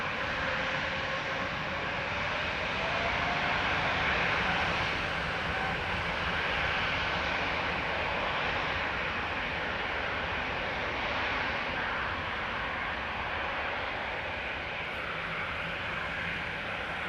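Jet aircraft engines throttle up for takeoff at Amsterdam Schiphol Airport, a loud, broad roar holding steady throughout with no voices.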